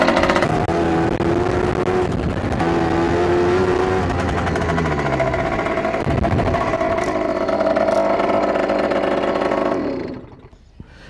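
A Motobécane 51 moped, a 50 cc two-stroke, runs loudly and close up just after being kick-started, its buzzing engine note rising and falling with small revs for about ten seconds before cutting out abruptly.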